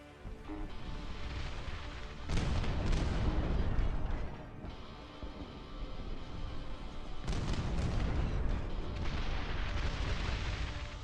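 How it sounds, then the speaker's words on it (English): Heavy artillery fire and explosions in a strategy video game, loud rumbling booms coming in sustained waves with brief lulls between, dense and continuous throughout. "Artillery is definitely doing its job."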